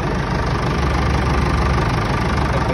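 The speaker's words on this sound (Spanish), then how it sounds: "Vamos a ver este tractor, el 398 de la marca Hattat, con 110 caballos de fuerza." Hattat 398 tractor, 110 horsepower, with a 4-cylinder Perkins turbo diesel, idling close by with a loud, steady, slightly knocking rumble throughout.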